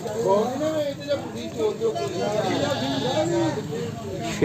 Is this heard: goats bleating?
yes